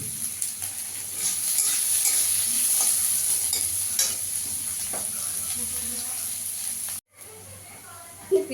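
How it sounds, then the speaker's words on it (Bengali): Onion and garlic frying in a pan for a jhinge bata (ridge gourd paste) dish, a steady sizzle with stirring scrapes throughout, briefly cutting out near the end. "পেঁয়াজ রসুনটা আমি একটু লাল লাল করে ভেজে নিয়েছি।"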